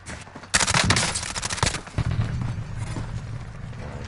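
Rapid automatic gunfire in the video game Warzone rattles out in a loud, dense burst, then continues as a rougher string of shots and thuds.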